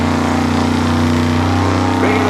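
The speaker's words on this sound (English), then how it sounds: "Another turbo car." Turbocharged drag racing car engine revving loudly and steadily at an Outlaw 10.5 and EZ Street eliminations event, a dense continuous roar that stays close and sustained throughout.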